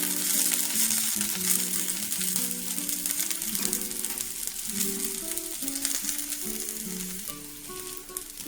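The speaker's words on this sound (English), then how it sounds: "You want to get some nice browning, but you don't want them to just char on just one side." Asparagus spears browning in oil in a pan on a stovetop, with a steady, loud sizzle and crackle throughout while faint music plays underneath.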